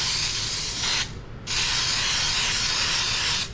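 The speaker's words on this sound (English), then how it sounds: "I'm going to spray these with Baker's Joy." Baker's Joy baking spray hisses into muffin cups for banana nut muffins in a kitchen, two close, loud sustained bursts separated by a short break, the second longer than the first.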